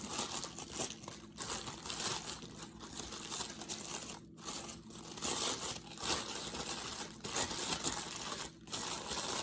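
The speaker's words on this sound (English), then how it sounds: "now from here, you can fluff up the tissue paper to give it a flower shape" Tissue paper is fluffed by hand into a flower shape for a craft, giving continuous close crinkling and rustling with brief pauses and no talk.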